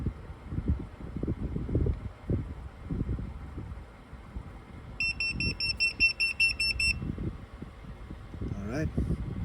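A Tadeto 12V carbon monoxide and propane detector sounds a rapid series of high electronic beeps for about two seconds, outdoors in gusty wind, while someone talks before and after the alarm.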